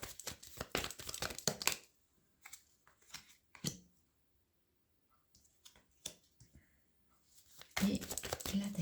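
Tarot cards handled and spread out on a table, with crisp crinkling and papery flicking in bursts, quiet pauses between, and a louder rustle at the end; no speech over it.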